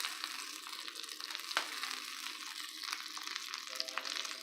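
Butter heating in a pan for a tempering of kumitti keerai greens, a steady close sizzle with crackling bursts throughout and no talking.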